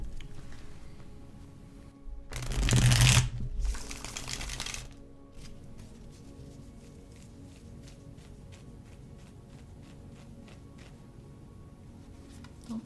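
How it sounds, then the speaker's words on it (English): A deck of cards shuffled by hand: two quick riffling bursts close to the microphone, followed by quiet, sparse card handling. No one speaks. "let's shuffle these cards and let's see what we have for you, Renee."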